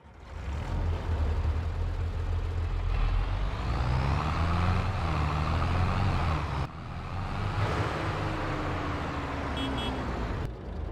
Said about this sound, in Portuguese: Motorzão Mercedes.